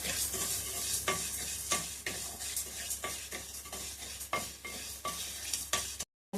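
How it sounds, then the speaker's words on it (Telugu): Dried red chillies frying in a pan for chilli powder, a constant oily sizzle broken by regular scraping stirs roughly every half second, close and clear with no talking. "ఈ మిరపకాయలు మంచిగా ఈ విధంగా వేగాలి"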